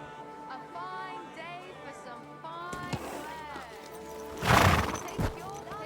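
A horse in the medieval video game Kingdom Come: Deliverance II gives a long wavering neigh and snorts, followed by a loud burst of clattering hooves, with a voice murmuring faintly beneath.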